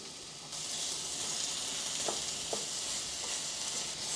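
Onions dropped into butter in a hot cast iron pan burst into a loud, steady sizzle after a quiet start, with a few light clicks of a utensil stirring through the hiss.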